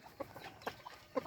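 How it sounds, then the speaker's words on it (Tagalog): Parawakan hens on a small farm give a few soft, short clucks spaced apart, faint against quiet outdoor background. "Yan yung ating mga inahin."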